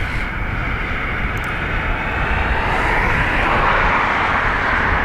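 An ATR turboprop airliner at Dublin Airport, a loud, broad propeller-and-engine roar that holds steady and builds slightly over a few seconds, heard alone.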